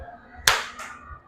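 A teacher's hands clapping during a classroom clap routine: one sharp clap followed by a second, softer clap, close and loud against a quiet room.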